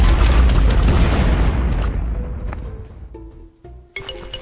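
A burst of loud, booming explosions in Plants vs. Zombies Fusion with crackling debris that gradually fades, leaving a few scattered tonal game sound effects.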